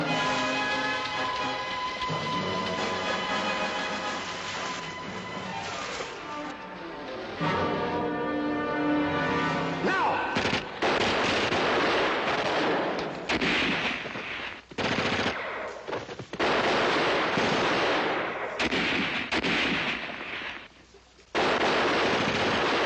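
Dense bursts of machine-gun and rifle fire rattle through a night patrol combat scene, loud and sustained with brief pauses and heavy blasts, the volleys coming in rapid rhythmic strings.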